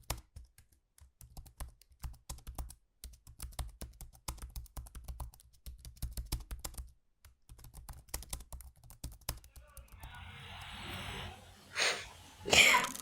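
Someone types an email on a computer keyboard, with close, irregular bursts of key taps and short pauses between them, followed near the end by a few breathy throat noises or coughs.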